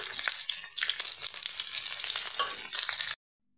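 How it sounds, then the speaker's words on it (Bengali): Four large onions fry in oil with black cumin for a small-fish chorchori, a loud, steady crackling sizzle with stirring that runs continuously, then cuts off abruptly just before the end. "আর এবার আমি পেঁয়াজগুলো ভেজে নিচ্ছি।"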